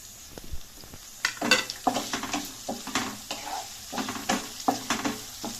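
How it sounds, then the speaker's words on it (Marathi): Whole spices tumble into onions frying in a pot for a Marathi goat-head bhaji, bringing a steady sizzle broken by several clattering stirs and scrapes against the metal, close and fairly loud. "आता आपल्याला ह्याच्यामध्ये हे खडे मसाले घालायचे आहेत"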